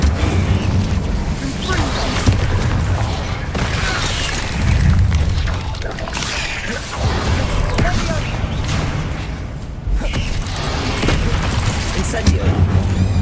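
Incendio fire spell cast repeatedly in Hogwarts Legacy, loud booming bursts and roaring fiery whooshes one after another, with layered explosive rumbles and crackle throughout a busy combat soundscape.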